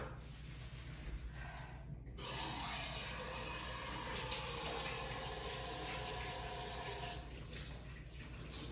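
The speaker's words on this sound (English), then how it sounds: "I'm gonna wash my hands again." Running tap water pours steadily into a sink during handwashing before a wound dressing change, the broadband rush starting abruptly and staying loud for several seconds before easing off.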